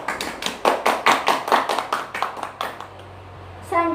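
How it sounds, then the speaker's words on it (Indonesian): Classroom applause for students, a burst of rhythmic clapping from a group, close and loud, fading after about three seconds. "Tepuk tangan untuk Mas Serpa dan Mbak Naira yang sudah berani m"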